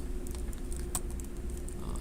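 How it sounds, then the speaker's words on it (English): Typing on a computer keyboard: a steady patter of soft key clicks over a constant low hum, with one slightly sharper tap near the middle, continuous throughout. "start typing"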